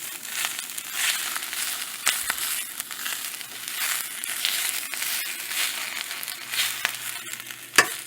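Kale and garlic fry in a pan with a steady, dense sizzle and crackle that runs throughout, broken by occasional stirring scrapes and a sharp clink near the end.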